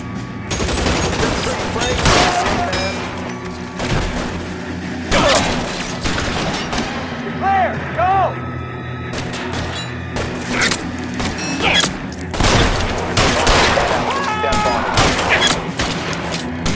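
A gunfire shootout in the video game L.A. Noire, with dense, irregular volleys of loud cracking shots, some ricochet-like whines and clanks, and brief lulls between bursts.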